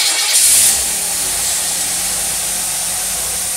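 A car engine fitted with a slave carburetor, with no power valve, revs up briefly and then settles into a steady, fairly loud running drone, with no talk.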